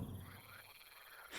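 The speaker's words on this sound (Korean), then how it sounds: "어디선가 개구리 울음소리가 들려왔다" Frogs croak at night as a sound effect in a fantasy audio drama, a close chorus of rapid, pulsing calls that fills the whole short moment with no voices.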